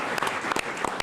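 An audience claps in a short burst of applause for a guest named Spud on a local sports talk show, the clapping dense and steady throughout with no voices over it.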